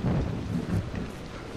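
Thunder rolls through a lightning storm in the horror game Cry of Fear: a deep, rumbling swell that fades out over about a second and a half, with rain hissing underneath.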